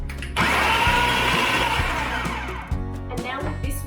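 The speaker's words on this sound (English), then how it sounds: "Now I put the 300 grams into the food processor," A food processor whirs loudly and steadily, blending frozen white nectarines into sorbet, with a brief dip near the end before the motor surges again.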